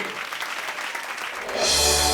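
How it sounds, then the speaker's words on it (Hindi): Loud, dense applause from an audience greeting a performer on a stage set, holding steady and then swelling as a burst of music joins in near the end. "ये जोरदार तालियां इस हमारे कलाकार के लिए।"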